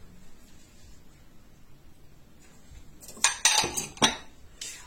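Banana bread batter with mashed bananas and eggs being mixed in a bowl: quiet at first, then a quick burst of metallic clinks and scrapes of utensil against bowl, close and fairly loud.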